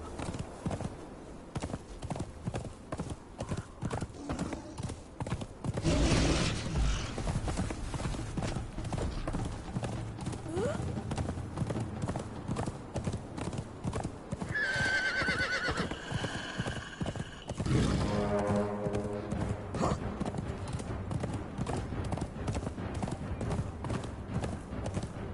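Horse hooves clip-clopping steadily in the Conan Exiles video game on the Isle of Siptah map, with neighs and whinnies breaking in partway through.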